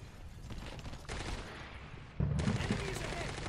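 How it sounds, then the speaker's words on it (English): Gunfire rattles in the Call to Arms war game, bursts of rapid shots at mid distance that jump sharply louder halfway through, with dense overlapping cracks and no clear talk. "we're taking fire already"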